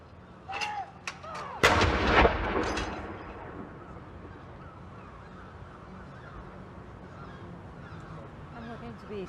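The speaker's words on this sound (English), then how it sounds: "the Royal Navy, who are firing their guns in Portsmouth Dockyard, home of the Royal Navy, and also in Devonport" Royal Navy ceremonial saluting guns fire at Portsmouth Dockyard, one round a minute for a memorial salute; a single loud boom rolls out and echoes away, with fainter bird calls before it and a quiet outdoor hush after.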